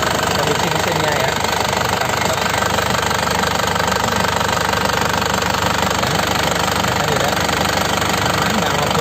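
A 2005 Grand Touring with a manual gearbox and an original engine never rebuilt, running steadily at idle throughout with a constant, dense mechanical drone and no pauses.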